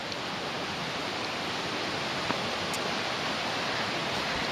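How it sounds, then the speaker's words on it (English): Constant rushing water like a river, an even hiss of flow filling the whole stretch without pause or voices. "You can hear the river in the background. It's pretty loud."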